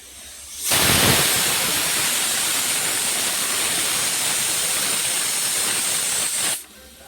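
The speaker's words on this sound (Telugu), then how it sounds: "ఇందులో కొంచెం వాటర్ యాడ్ చేస్తున్నాను" Water poured into a pot of simmering lentil soup (pappu charu) gives a steady loud hiss and splash that starts abruptly, runs unbroken for about six seconds, then cuts off, with no talking.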